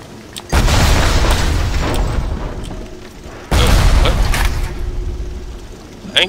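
Two heavy booming blasts from a turret in Bioshock, each a sudden loud hit trailing into a rumbling decay, spaced about three seconds apart, with faint game noise between them.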